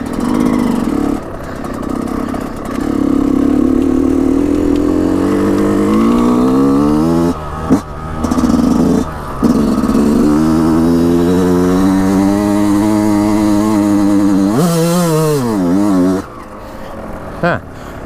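Yamaha YZ125 two-stroke dirt bike fitted with a YZ125X CDI box, loud and close, its engine revving up through the power band with rising pitch, gear-change dips and renewed climbs; a rider's voice is heard briefly.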